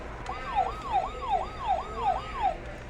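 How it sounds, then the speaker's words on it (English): An ambulance siren wails in a steady rising-and-falling pattern, about six repeated swoops over three seconds, loud and fairly close, with faint road noise beneath and no talking. "No, it was an ambulance. But it made that noise."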